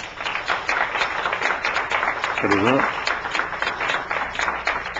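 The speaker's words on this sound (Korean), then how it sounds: "박수를 한번 전해." A church congregation clapping steadily in applause for a deaconess, a dense, continuous patter throughout, while someone speaks briefly over it in the middle.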